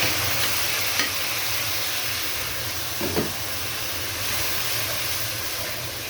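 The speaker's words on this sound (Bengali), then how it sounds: "এইভাবে নেড়ে চেড়ে মশলাটা ভালো করে কষিয়ে নিতে হবে।" Spice paste of chili, turmeric, cumin, ginger and garlic being stirred and fried in a pan, a steady close sizzle and hiss with a couple of soft scraping stirs, no voices.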